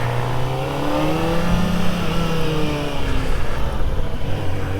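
Kawasaki ZX-4RR motorcycle engine revving hard and upshifting, loud close whine sweeping up in pitch, dropping at each shift and climbing again, with rushing wind underneath.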